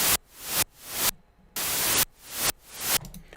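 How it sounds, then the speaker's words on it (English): White noise from a Serum software synthesizer, played as a series of bright hissing bursts that swell and cut off in a regular rhythm, with no voices. "One thing I wish I could do is I wish I could make the white noise stereo a little bit easier."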